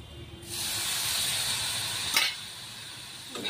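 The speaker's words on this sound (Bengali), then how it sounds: "দেখো আর একটু তেলে জল দিয়ে দিলাম" Water poured into hot oil while cooking jhaal suji, a sudden broad hiss that rises and holds steadily, with a brief sharp crackle partway through, close up and without talk.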